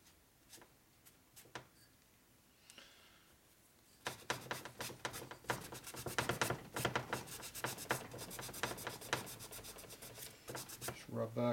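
A rag rubs back and forth over a 1992 Harley-Davidson 80ci Evo engine case to clean off excess, starting as sparse faint scrapes then becoming a steady close run of quick rhythmic strokes.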